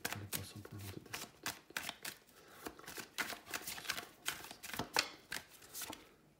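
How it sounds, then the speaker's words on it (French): Tarot cards shuffled and dealt by hand in a close, steady run of crisp riffles and flicks, with brief card slaps and no talking. "on va prendre une dernière carte tarot"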